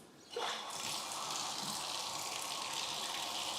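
Water gushes steadily into a jacuzzi bathtub, starting abruptly and then running as a continuous hiss and splash at close range.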